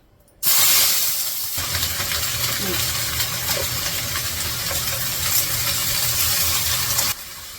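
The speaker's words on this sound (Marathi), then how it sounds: "सगळी फ्लॉवर मी अशी जरा तेलामध्ये थोडीशी भाजून घेते" Cauliflower florets hit hot oil in a pan with a sudden loud sizzle that settles into a steady, close hiss and crackle for about seven seconds, then drops away sharply.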